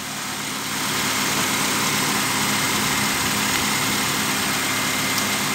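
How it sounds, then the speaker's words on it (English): A Honda Accord engine idles with the AC system running and the blower at maximum, giving a steady, even hum that holds unchanged throughout, with no talking. "the engine is gonna add noise to the video"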